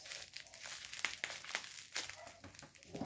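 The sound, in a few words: bubble wrap packaging being handled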